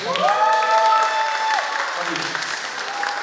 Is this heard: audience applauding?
yes